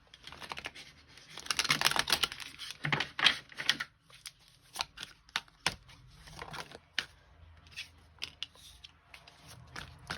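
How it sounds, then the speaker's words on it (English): Tarot cards being drawn and shuffled by hand: a dense burst of crisp card riffling and slapping early on, then scattered sharp taps and flicks as individual cards are laid down, close and fairly quiet. "So we're gonna draw some cards"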